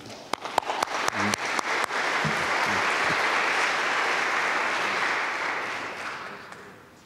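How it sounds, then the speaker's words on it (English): A civic event audience at a central library breaks into applause, opening with a few scattered claps that swell quickly into full, dense clapping before tapering off. "Let's give another round of applause for Tim McDonald."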